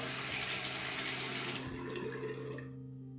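Tap water runs close and steady into a sink for rinsing a razor, then cuts off, leaving quiet near the end.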